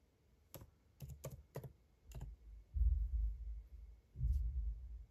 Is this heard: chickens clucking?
no